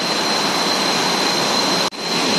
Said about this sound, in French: Voilà la petite cascade où nous allons pouvoir nous baigner.